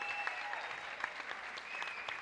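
A crowd at BlogHer16's The Pitch event applauds the pitch contestants, a steady wash of clapping with a few louder individual claps and a faint tonal hum underneath.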